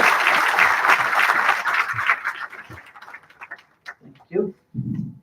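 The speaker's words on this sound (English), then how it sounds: "Can we have a round of applause for everyone?" Audience applause for the panel at a leadership and talent symposium, dense and loud at first and then thinning into scattered claps, with voices and some laughter coming through as it dies away.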